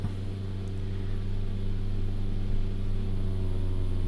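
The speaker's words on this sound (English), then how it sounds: "So bring the engine revs up" A simulated propeller aircraft engine in X-Plane 11 climbing in revs, a steady droning hum with strong low tones and a slight rise in level, continuous throughout with no talking.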